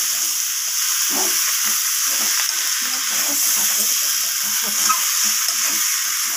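Cauliflower and egg curry stir-fried with fresh coriander leaves in a hot pan gives a steady, close sizzling hiss throughout, with soft scraping stirs breaking in now and then.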